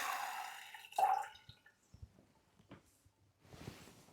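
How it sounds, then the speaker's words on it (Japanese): Hot preheating water is poured out of the brew head of an IKAPE Alkaid hand-cranked manual espresso machine, giving a short splash and drips, then a few light clicks and a brief wet rush near the end, fairly faint and close. "次にブリューヘッドの線を外して予熱しているお湯を捨てます。"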